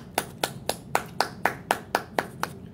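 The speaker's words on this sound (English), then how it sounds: "Clap it up for Diddy first." One person claps slowly and evenly, about ten sharp, close hand claps in a steady rhythm against a quiet indoor background.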